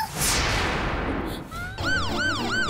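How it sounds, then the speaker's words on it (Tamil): An ambulance siren wails in a repeating rising-and-falling pattern, loud and close, after a stretch of rushing noise and crowd commotion. "ஆம்புலன்ஸ் வாங்க, சீக்கிரம் வாங்க."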